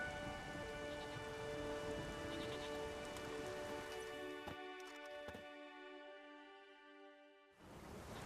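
Steady rain falls in The Witcher 3 video game, a continuous close patter with a few distant rumbles, thinning out near the end before a fresh burst of noise.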